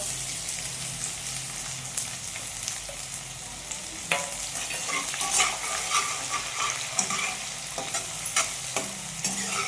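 Onion and green chillies frying in a pan for a Maharashtrian dry dill-leaf vegetable dish: a steady close sizzle runs throughout, broken by repeated scraping stirs of a spatula against the pan.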